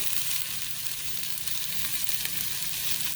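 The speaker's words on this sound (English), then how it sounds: "And that's kind of saute a little bit and give it a little bit of more fragrance to the spices." Dried basil, seasoned salt and other spices sauté in a hot pan while a spaghetti squash dish is cooked. A loud, steady sizzle crackles close by and does not stop, and nobody talks.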